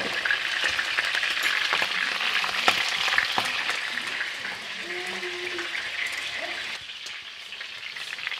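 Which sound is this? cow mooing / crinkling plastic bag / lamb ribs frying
lamb ribs frying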